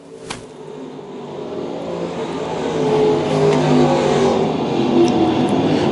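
Race cars lapping Lakeside Speedway during a main event, engines roaring and swelling louder as the pack comes past, with a continuous rumbling drone and no talk over it.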